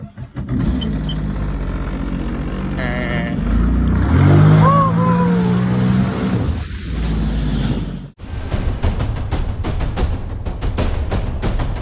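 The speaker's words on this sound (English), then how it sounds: "let's start this engine" An engine cranks and catches, then revs up in a rising whine before settling into a rough, steady idle, loud and close throughout.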